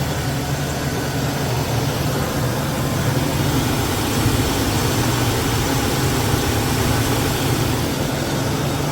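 A 1999 Chevy Silverado engine idles smoothly with a steady low rumble and broadband hum, continuous and close, with no talking.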